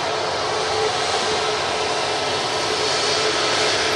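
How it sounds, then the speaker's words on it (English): Air Transat A380 on a heavy departure from runway 23 left at Manchester Airport, a 25-year-old jet: a steady, loud, broadband roar of engines that holds constant throughout, with no talk. "Next heavy departure from 23 left, we have the Transat A380."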